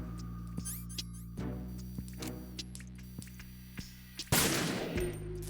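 Several gunshots fired at a security camera in Metal Gear Solid 2, arriving as sharp, evenly spaced cracks over a low game hum and ending in a louder burst as the camera is destroyed.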